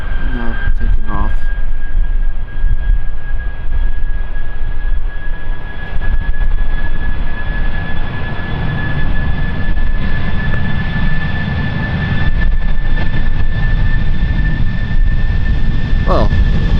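British Airways jet airliner taking off from runway 36L at Amsterdam Schiphol Airport, a loud steady engine roar sustained throughout with a faint whine above it, with a voice speaking briefly at times.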